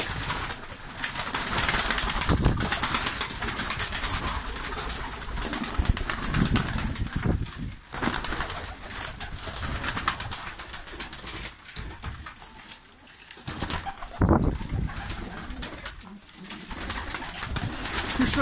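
A large flock of pigeons, Malatya and Kanat Posta breeds kept for sale, coos steadily and continuously close by, with occasional wing flaps amid the busy chorus.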